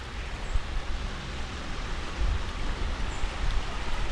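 Small waterfall at Hidden Waters Nature Park, a spring-fed limestone area, giving a steady, even broadband rush of falling water with no pauses, fairly close and moderately loud, with no voices over it.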